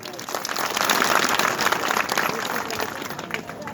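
A village crowd at a religious jyoti path gathering breaks into loud, dense applause that holds steady for several seconds before easing slightly, with voices mixed into the clapping.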